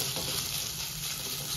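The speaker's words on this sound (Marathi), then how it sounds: "हे छान कांदे असे परतून घेऊ." Chopped onions sautéing in a hot pan with oil for a Goan fresh cashew curry, a steady close sizzle and crackle of frying throughout with no talk.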